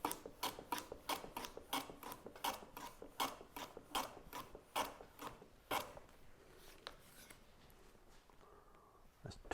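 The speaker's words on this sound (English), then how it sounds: "And now we will begin cutting the miter on this one." Rhythmic rasping strokes of a hand tool cutting a miter on a wooden lid liner, about fifteen close, even strokes before the cutting slows and fades to quiet.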